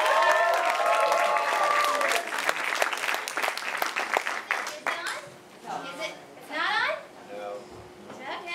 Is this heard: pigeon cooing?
no